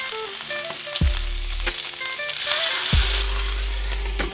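Salt-cured meat sears in a hot pan, a steady soft sizzle running beneath tonal music, with a couple of low thumps as the piece is moved.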